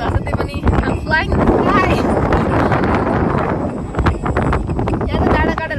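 Strong wind gusts across an open hilltop viewpoint at Limchungbung in Udayapur, Nepal, as a steady, loud broadband roar buffeting the microphone throughout, with a person talking over it.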